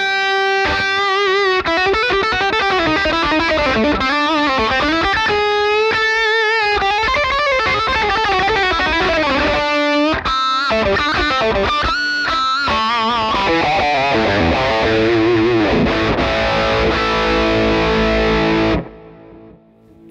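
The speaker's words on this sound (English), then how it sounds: "It's a thick, juicy sort of British style overdrive" Heavily overdriven electric guitar through a Victory VX100 Super Kraken tube amplifier plays thick, saturated British-style chords and melodic lines continuously, loud and sustained, ending with a ringing chord that cuts off abruptly.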